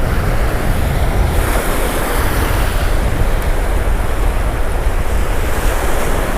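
Ocean surf breaks on a reef off Île de Ré, a loud, continuous wash of waves with wind buffeting the microphone and no talk.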